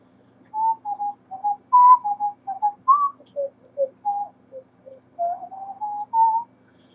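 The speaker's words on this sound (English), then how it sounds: "I can't really help whistling sometimes, and it really sounds horrible, like whistling through a microphone." A person whistles into a microphone, a string of short, breathy, slightly wavering notes in an irregular melody, close and clear over a faint steady hum.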